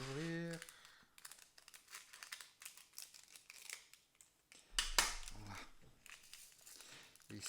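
Scissors snip open a small plastic bag of diamond painting drills, with sharp cuts and crinkling of the packet, fairly close and quiet, as someone speaks briefly.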